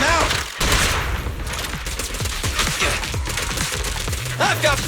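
Rapid gunfire from the action game Zenless Zone Zero, a steady burst of sharp shots with metallic impacts and whooshes over a busy combat backdrop, with a short character voice-over near the end.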